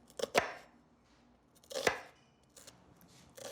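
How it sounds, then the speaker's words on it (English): A knife chopping onion on a board, three quick bursts of two or three close, crisp cuts each with pauses between, no voice. "I'm just gonna finish cutting my onion."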